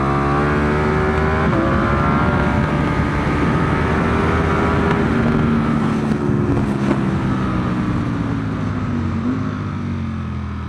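A 2025 BMW S1000RR motorcycle engine held at high revs under throttle, a loud close continuous whine with pitch dipping and climbing through gear changes, wind roar underneath.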